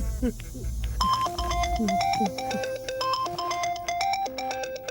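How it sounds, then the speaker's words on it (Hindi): A mobile phone ringtone plays a repeating electronic melody of bright, steady tones throughout, with a voice talking over the start. "तेरा फोन बज रहा है।"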